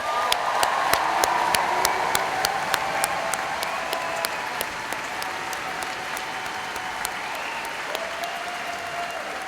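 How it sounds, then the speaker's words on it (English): An audience at a university graduation ceremony gives a sustained round of applause, steady, dense clapping that fades slightly toward the end, with no voices over it. "And one more round of applause for the class of 2015."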